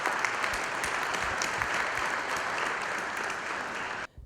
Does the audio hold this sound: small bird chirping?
no